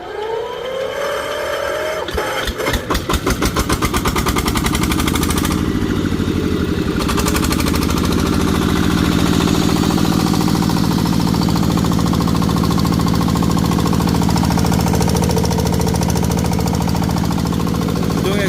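A used power tiller's small engine starts with rapid knocking pulses, then settles into a loud, steady, close-up rattling drone that continues without pause.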